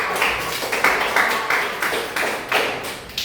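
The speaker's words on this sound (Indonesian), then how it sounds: "tepuk tangan yang meriah untuk Viola." Audience clapping at a church gathering, heard as rhythmic bursts of claps in a regular pulse, close and fairly loud, with no talk over it.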